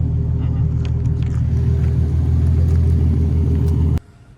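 A Datsun Z car engine idles steadily with a low, constant rumble, then cuts off abruptly near the end, leaving quiet background.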